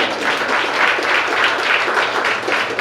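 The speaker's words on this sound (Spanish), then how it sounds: "pero aplaudan, van a aplaudir." A church congregation applauds during a pastor's sermon, a dense, steady roar of many hands clapping that fills the room without a break.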